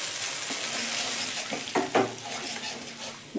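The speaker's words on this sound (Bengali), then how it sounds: "মশলাটা এবার আমি ঢেলে দেব।" Spice paste tipped into hot oil in a pan on low gas, with fennel and nigella seeds already fried, giving a steady sizzle and a few wet splatting bursts near the middle, close and fairly loud.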